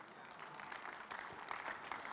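Church congregation clapping during a pastor's sermon, a brief burst of scattered, fairly soft applause from many hands.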